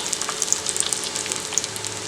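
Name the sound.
sliced onions frying in hot coconut oil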